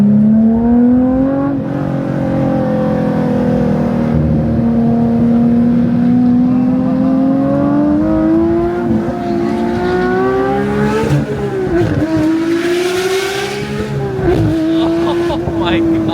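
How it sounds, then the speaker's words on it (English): A Porsche 992 GT3 engine revs high and loud throughout, its pitch climbing and dipping with sharp rises near the end, with people talking over it. "Like to understand the sound this car is making. Such a F1 style sound, so high pitch."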